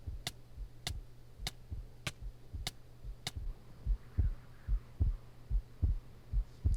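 Minecraft low-health heartbeat effect from the Dynamic Surroundings mod: a steady series of soft double thumps repeating about every half second, low and muffled, over a faint background hum with no talking.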